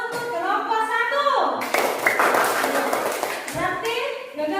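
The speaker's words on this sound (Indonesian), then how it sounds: "tepuk tangan untuk kelompok 1" A class of children claps for a student group in a school lesson, a brief burst of clapping in the middle, with a teacher and pupils talking before and after.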